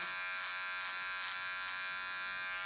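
Electric hair clippers run with a steady, bright buzz during a men's clipper-over-comb haircut, cutting a baseline close up with no talking over it.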